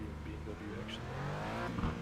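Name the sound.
BMW race car engine in iRacing video game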